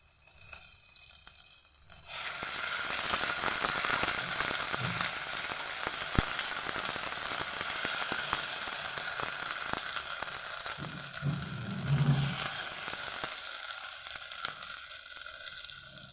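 Ginger garlic paste sizzles in a pan with bay leaf and pepper tempering for a soybean dish. A dry sizzle flares up after a quiet start and holds steady and close, with scraping and stirring over it.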